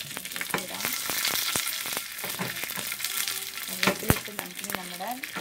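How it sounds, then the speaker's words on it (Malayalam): Mustard seeds, fenugreek, dried red chillies and curry leaves sizzle and pop in hot oil on low heat for a sambar tempering, a steady dense crackle with sharp pops and brief stirring scrapes. "കടുക് പൊട്ടി വരുന്നുണ്ട്"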